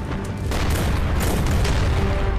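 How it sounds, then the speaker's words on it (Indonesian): A base blows up in a film scene, a heavy sustained boom with dense low rumble that swells after a brief lead-in and stays loud and continuous, with no talk. "Markas Devil meledak dalam kepulan asap."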